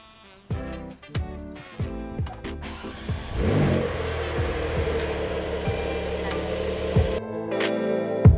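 A Porsche 992 Carrera T starts with a few sharp blips of the engine, then revs up and pulls away in a sustained, rising drone that holds steady before a final blip, loud and close at early morning.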